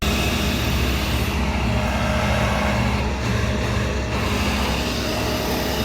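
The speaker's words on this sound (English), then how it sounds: "Tow truck coming up." A tow truck pulling up outside a body shop, heard as a steady, loud low engine rumble mixed with continuous road and traffic noise, with no clear breaks.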